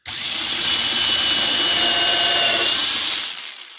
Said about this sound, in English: drill's going to go up into the frame.